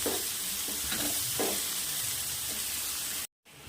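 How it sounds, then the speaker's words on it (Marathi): A small, finely chopped onion sautés in a pan with a steady frying hiss and a few soft stirring scrapes, ending in a short cut to silence. "बारीक कट केलेला कांदा आहे हे बघा एक कांदा छोटा कांद्याला पण छान परतून घ्यायचं आहे"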